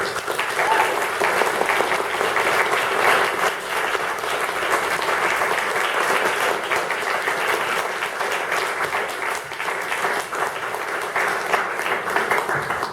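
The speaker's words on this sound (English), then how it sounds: "If we can have a big round of applause." An audience at a panel discussion on climate justice and food claps in a steady, full round of applause lasting many seconds without a break.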